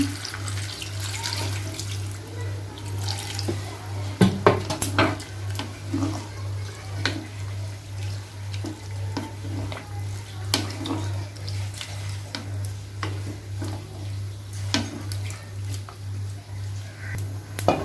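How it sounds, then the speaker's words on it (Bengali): Water pours into a pot of shukto, a Bengali vegetable dish cooked with milk and coconut, as a steady splashing stream with a low hum beneath and scattered clinks of the pot throughout. "চলুন এবার জল দিয়ে দিচ্ছি পরিমাণ মতন"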